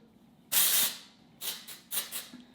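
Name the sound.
texturizing hair spray being sprayed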